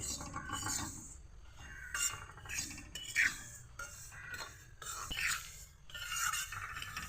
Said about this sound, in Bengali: গ্যাসের জালটাকে মিডিয়ামে রেখে আমি তিলগুলোকে ভেজে নেব।